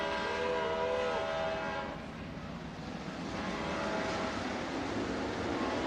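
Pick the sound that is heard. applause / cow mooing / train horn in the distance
train horn in the distance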